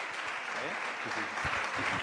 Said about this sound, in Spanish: La podemos recibir también con un aplauso